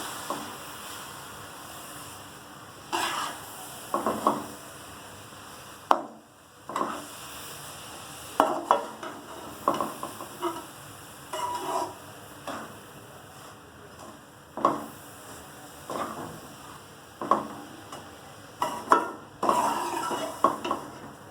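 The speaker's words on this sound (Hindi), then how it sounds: "फ्लेम हमें स्लो ही रखना है, इसे मिक्स करना है।" Semolina and milk stirred with a spoon in a pan over a low flame, giving repeated scraping and clinking strokes against the metal at an uneven rhythm, close and clear with no talking.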